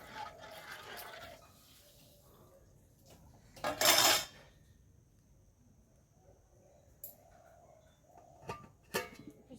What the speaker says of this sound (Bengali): সেই হাঁড়িটা ওইদিকে রেখে দিই